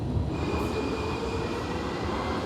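Steady rumble inside a moving train near Munich, a continuous low rolling drone with faint wheel noise and a thin high whine, even and close, no voices.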